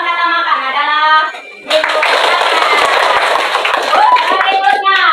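Schoolchildren in a classroom clap their hands in a loud, sustained burst after a teacher speaks, the steady clapping continuing to the end with voices mixed in.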